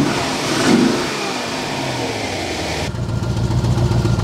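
C4 Corvette ZR1 engine with a misfire revving up close, a loud swelling rev that settles into an uneven, fluttering idle with a rough, pulsing beat.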